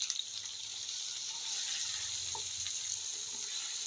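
Masala with turmeric powder and a splash of water sizzles quietly in a pan, a faint steady frying hiss with light stirring and no talking.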